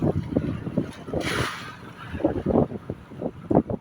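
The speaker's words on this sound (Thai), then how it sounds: "มันเป็นลมมันเป็นคลื่นเนี่ย" Gusting wind buffets the microphone over sloshing waves and a fishing boat's motion at sea, with a brief hiss of spray near the middle.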